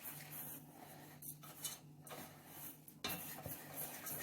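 A spoon stirs sugar and cocoa powder together in a bowl, quiet and close, with soft repeated scraping and occasional light taps against the bowl.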